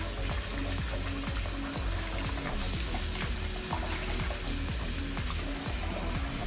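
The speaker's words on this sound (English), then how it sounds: "So we're going now and wash my rice." Parboiled rice being washed by hand in water in a home kitchen while making Jamaican rice and peas, giving a steady wet swishing and trickling close by, continuous throughout with no talking.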